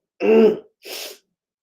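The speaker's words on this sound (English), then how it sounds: "I feel like I'm going to sneeze." A single close sneeze: a short voiced gasp, a brief pause, then a sharp, breathy burst.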